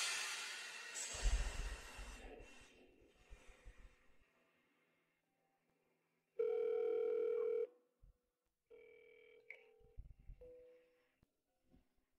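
A phone call rings out unanswered, with a steady electronic tone sounding in two bursts after a stretch of rustling and handling noise, fairly close and clear with no talk over it.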